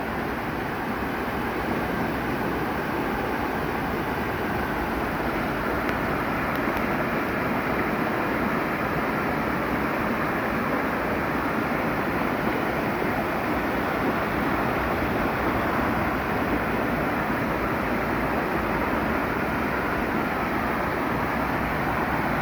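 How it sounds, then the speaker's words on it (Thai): Kob Duea waterfall in Thailand pours in a constant, loud broadband roar, a steady rush of falling water close by with no talking, unchanging throughout. "น้ำตกกบเดือนะคะ"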